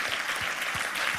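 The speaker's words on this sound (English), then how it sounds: "You probably shouldn't be applauding that" An audience at a hacker conference talk claps steadily in a dense, even wash of applause that fills the room for the whole moment.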